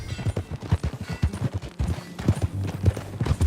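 Horse hooves clip-clop in a steady, close, rhythmic gait as a horse is ridden in Red Dead Redemption 2, loud and continuous with no talking.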